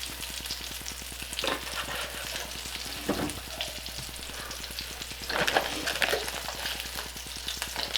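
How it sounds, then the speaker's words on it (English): Squirrel meat sizzles and crackles steadily in hot oil in a pan, with a constant low hum and occasional stirring scrapes, and no voices. "Gonna have to add just a little bit more oil in there to make sure they get frying good."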